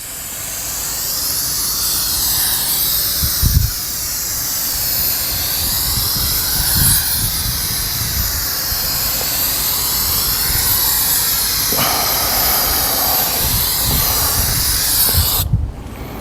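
Costco tire shine dressing is sprayed onto a black car wheel in a long, continuous, close and loud hissing spray with a few brief pulses, with no talking.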